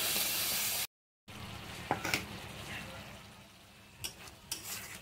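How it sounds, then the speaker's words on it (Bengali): Curd-laced spice paste sizzles in a pan while being stir-fried, a broad steady hiss broken by a brief silent gap, with a few sharp scrapes and clinks of a utensil against the pan. "দইটা দিয়ে দিচ্ছি দিয়ে ভালো করে কষিয়ে নিতে হবে"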